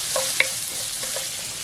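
Bacon and tomato sizzle steadily in a hot skillet, a continuous bright crackle with a light clink partway through.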